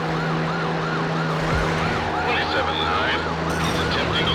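Wailing police sirens in the PS2 racing game Need for Speed: Hot Pursuit 2, cycling steadily over a constant engine drone, with a second siren tone joining partway through.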